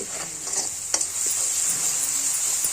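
Tempering for a pickled chutney sizzles loudly and evenly in a pan, with a few stirring clicks and scrapes and no voices.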